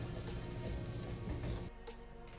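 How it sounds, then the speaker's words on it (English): Onions sauté in a pan as the base for Jamaican-style curry coconut shrimp, a dense, faint sizzle that drops abruptly quieter near the end. "I'm just gonna saute this for like a minute or two before adding anything else"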